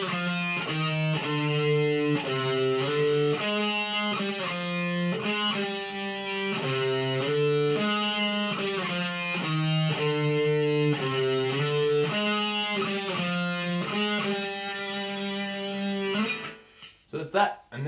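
An electric guitar with distortion plays an intro riff as a single line, not harmonized. The steady, rhythmic pattern repeats for most of the passage, then breaks off into a few stray notes at the end.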